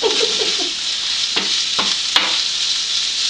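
A spoon works through onions in a hot frying pan on low heat, a steady sizzle running underneath with a few distinct scraping strokes against the pan surface.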